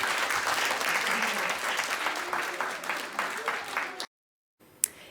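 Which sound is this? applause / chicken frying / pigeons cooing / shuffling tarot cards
applause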